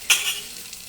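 Chili powder hitting hot oil in a pan while making egg pulusu, a brief sharp sizzle burst that quickly settles into a soft, faint hiss.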